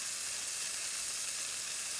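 Milk boiling over on a stovetop, a continuous bright hiss and sizzle, steady and fairly close, with no voices.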